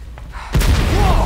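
A big gas-filled explosion in Resident Evil 2 bursts suddenly after a quiet moment, a loud deep boom followed by a sustained rumbling roar.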